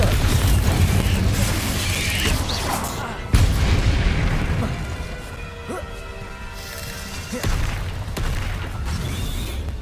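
A Confringo blasting spell explodes in the Hogwarts Legacy video game: a loud, sharp boom lands partway through over a dense, rumbling game soundscape, with crackling debris and a second swell near the end.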